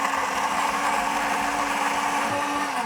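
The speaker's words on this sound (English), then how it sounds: "This blender is really good. This is a high-speed blender." A high-speed blender whirs loudly and steadily, blending an oat milk smoothie at a constant pitch throughout.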